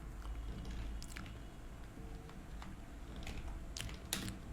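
Soft, scattered key taps on a computer keyboard while a title is typed into a Canva design, faint and close against a low background hum.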